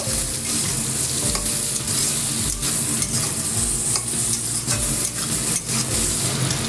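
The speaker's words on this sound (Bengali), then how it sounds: "টমেটোকে আমি পাতলা পাতলা করে কেটে গেছিলাম সেটা দিয়ে আবার একটু নেড়ে নেব" Spices and thinly sliced tomato fry with a constant sizzle as a spatula keeps scraping and stirring around the pan, close up and with no talking.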